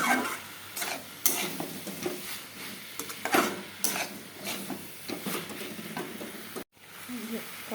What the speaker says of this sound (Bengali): মশলাটা দেখো সুন্দর ভাজা ভাজা হয়ে গেছে